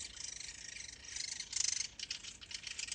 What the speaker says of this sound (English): see this guy? This woodpecker? And I think there's a whole bunch of babies in there.